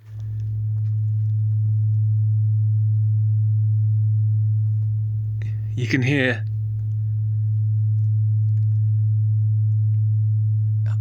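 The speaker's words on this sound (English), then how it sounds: "I'm moving around with these test sine wave tones" A steady, loud low-pitched test sine tone fills a recording studio room, holding constant except for a brief dip midway where someone speaks over it.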